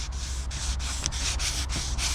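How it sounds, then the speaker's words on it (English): Fine 2000 grit sandpaper wrapped around a pad and rubbed lightly by hand, a continuous close scratchy hiss with regular back-and-forth strokes roughly every third of a second. "So I've got this 2000 grit, wrapped it around a pad, and I'm going to lightly"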